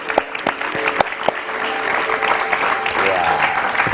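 Studio audience clapping on a hypnosis TV show, a burst of loud claps at first that swells into sustained applause, with some voices mixed in toward the end.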